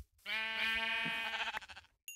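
A sheep in the Minecraft video game gives one loud, drawn-out bleat, close and alone, with a brief click just after it.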